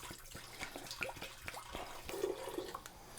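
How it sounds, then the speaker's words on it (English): Mulled wine base pours from a bottle into a pot, a soft continuous splashing, gurgling trickle with small glugs, faint and close with no talking. "I'm going to pour in about a liter and a half"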